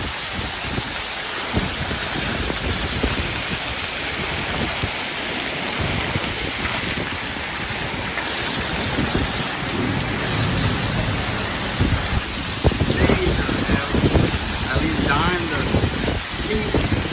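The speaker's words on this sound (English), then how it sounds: "Huge hail starting to come down." Large quarter-sized hail pounds down in a San Antonio thunderstorm with 60+ mph winds. A dense, steady roar of impacts fills the whole stretch, swelling into louder, choppier bursts near the end.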